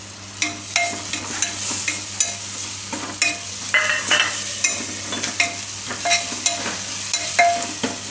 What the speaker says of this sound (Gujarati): અને આપણે મિક્સ કરી લેવું તેલમાં. અને ટમેટું નાખી દેવું.